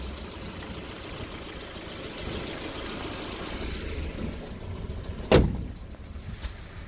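An old Honda CRX engine idling, a steady low mechanical hum with a faint rattle held close and even, then a single sharp bang near the end like a hood being shut.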